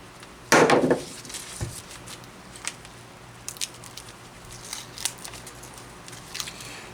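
A part inside an Atwater Kent Model 708 radio is cut off, one sharp close snip followed by faint scattered clicks and small handling taps.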